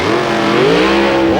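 A nitro drag racing car at a 1995 ANDRA Top Doorslammer event roars loudly and steadily under full acceleration, its engine pitch climbing then shifting near the end in a brief, intense burst.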